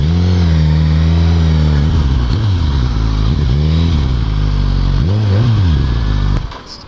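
A motorcycle engine idles loudly and steadily up close, with a few revs rising and falling before it cuts off abruptly near the end.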